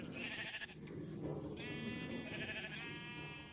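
Sheep bleat in the video game ScratchCraft, several overlapping wavering cries at moderate volume against a steady background.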